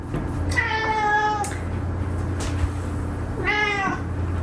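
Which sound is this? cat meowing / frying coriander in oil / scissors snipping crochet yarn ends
cat meowing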